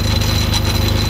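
An ML7 lathe drills deeper into a tough steel bolt shaft, giving a loud, steady mechanical drone with a fast rhythmic chatter and a constant high whine, no speech.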